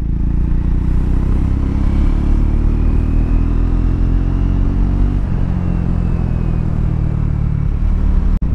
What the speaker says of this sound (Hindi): मैं फिफ्थ गियर में भी था एंड उसके बाद में भी अगर मैं रेव कर रहा हूँ